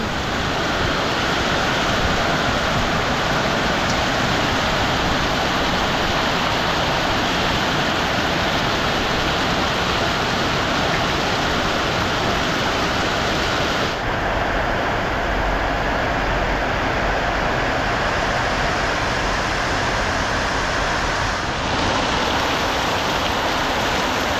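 Heavy rain pours steadily in a rural village, a dense, loud, continuous roar of water with no voices and only a slight shift partway through.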